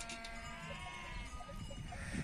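Sheep at milking time in a village bleat faintly against steady background noise, with soft repeated calls.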